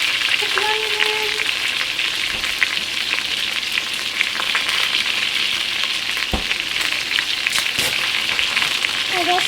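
Onion hits a pan with crisped chicharrón pork skins for Panamanian tamales, giving a steady, close, dense sizzle throughout, with a couple of sharp clicks from the pan.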